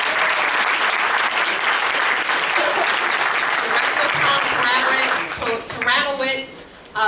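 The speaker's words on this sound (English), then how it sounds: "if you can give them a round of applause." An audience applauds at a community event in a public library, dense sustained clapping that fills the room before thinning out and fading near the end.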